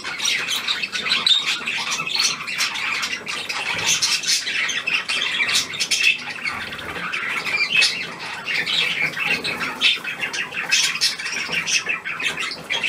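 A pet finch calling, a steady run of sharp squawks and chirps repeating throughout, close and fairly loud with no talking.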